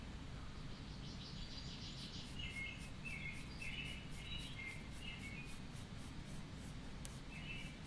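Pencil scratching and sliding across paper during a figure drawing session, soft, close and continuous, with faint high chirps partway through.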